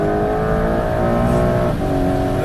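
A 2025 Porsche 911 GTS engine pulls hard on a race track, heard from inside the car as a loud, sustained rising drone with a rich harmonic tone and no pauses.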